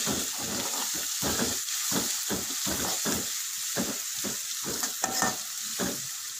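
Ginger stir-fried over medium heat in a pan for anchovy fish pickle, a bright steady sizzle broken by rhythmic scraping strokes of a spatula, close and fairly loud.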